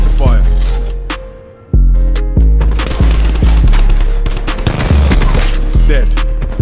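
Tempest weapon firing during Call of Duty Black Ops 4 multiplayer, a series of loud close blasts and sharp bursts over a dense, constant backdrop of game sound and music, with game voice lines mixed in.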